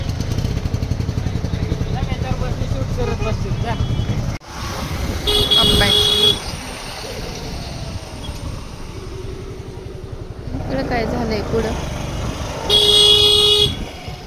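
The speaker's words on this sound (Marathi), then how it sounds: "ट्रॅफिक बघा किती जाम झालं होतं" Heavy traffic stands jammed on the road to Bhimashankar temple, with engines rumbling and two long, loud car horn blasts sounding some seconds apart, while people talk nearby.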